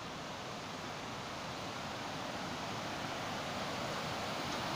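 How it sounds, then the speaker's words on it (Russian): Steady, dense rushing of falling water from a fountain or waterfall in a riverside square along the Yauza embankment in Moscow, a constant broadband roar with no breaks. "Там что-то какой-то фонтан или водопад, или что там такое."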